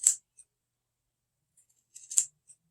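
Scissors snip at a handmade craft gnome ornament, a sharp close cut followed by a pause, then a short cluster of quick snips in a quiet room.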